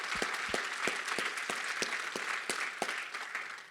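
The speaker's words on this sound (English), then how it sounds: "Would you please give a round of applause to the amazingly hardworking, brilliant staff from Nieman and IOP who are here today" Conference audience applauding the staff: a steady, dense wash of many hands clapping at moderate distance, with a few sharper individual claps popping out at regular intervals throughout.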